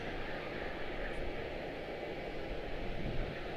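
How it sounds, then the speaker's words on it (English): An Airbus A321neo airliner arriving at Charlotte-Douglas International airport: a steady, fairly distant engine roar and rumble holds at an even level throughout, with no talk. "A couple of arrivals just floated in on us. A321 Neo out of Chicago O'Hare."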